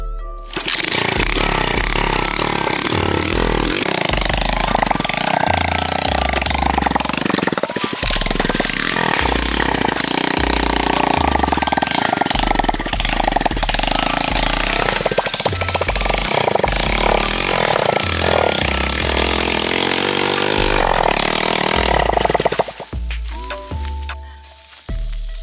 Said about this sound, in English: redlining it, I thought it would blow up